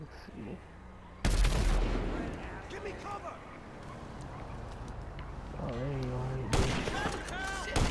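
Gunfire in GTA Online, with sharp loud bursts around the start and near the end over a continuous rumbling game soundscape, while someone talks throughout.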